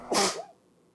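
A single sharp, close sneeze bursts out and fades quickly into near silence.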